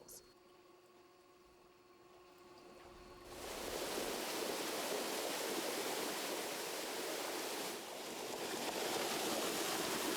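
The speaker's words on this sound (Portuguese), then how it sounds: "Diariamente, 15 milhões de litros de água limpa jorram da usina de tratamento para o córrego Whitewood." Clean treated water gushing from a treatment plant into Whitewood Creek, a steady broadband rush that swells loud after a few seconds and stays continuous, with a faint tonal hum beforehand.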